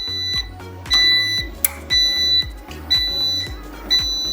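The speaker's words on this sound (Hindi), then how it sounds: "इन्वर्टर अलार्म 56 देगा।" A Photon Pro inverter sounds its alarm 56 for a communication fault with a Nexus Pro battery: four repeated high electronic beeps, each lasting about half a second and about a second apart, over a low hum.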